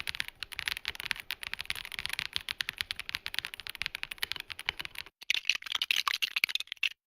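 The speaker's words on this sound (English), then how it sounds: "It's a fully working Lego keyboard, and it's called the Kit Atom." Dense, rapid clacking keystrokes from a Kit Atom mechanical keyboard built from Lego bricks, close and crisp, with a brief pause before a brighter, sharper burst of typing.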